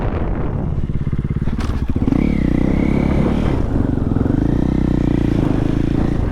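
A motorcycle shifting from first to second gear at around 20 mph, the engine note steady and loud up close with a clunk at the shift and a brief blip, then a sustained drone.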